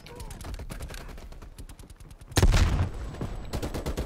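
Rapid gunfire crackles through a Call of Duty: Black Ops Cold War match, a fast stream of close shots with a louder, heavier blast midway, followed by more quick bursts.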